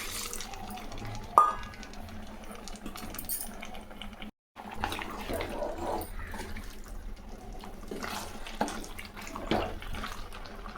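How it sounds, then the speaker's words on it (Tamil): Water poured into a pot of Vellore-style country chicken curry with coconut milk: a running, splashing stream that carries on for several seconds, broken by a brief gap, with faint stirring and kitchen clatter. "ஒரு அரை லிட்டர் தண்ணி சேர்த்துக்கலாம் இப்போது"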